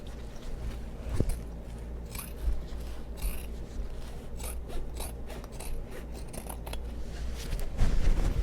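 Scissors trim a fabric seam allowance on a bag being sewn, giving soft, quiet repeated snips and rustling cloth close by with no voices.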